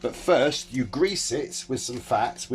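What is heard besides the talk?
No everyday noise stands out behind the speech.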